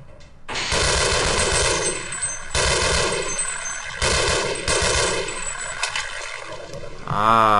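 Rapid automatic gunfire from the classic Half-Life video game, loud and close, rattles in three sustained bursts with brief gaps, followed by a short tonal mechanical sound at the end.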